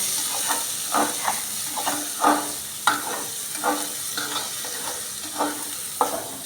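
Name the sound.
stirring rice frying in pan for Basanti pulao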